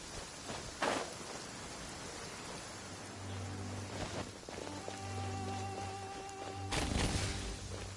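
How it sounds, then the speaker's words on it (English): Rain falls in the video game Genshin Impact as a soft, steady patter, with a few brief louder bursts and faint musical tones drifting underneath. "it's raining. Fetch an umbrella for me"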